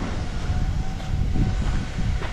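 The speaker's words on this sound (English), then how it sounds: "That, I believe, is a small shunting engine" A small shunting locomotive moving around a rail yard on the North Yorkshire Moors Railway, giving a steady, loud low rumble with a faint tonal whine and no voices.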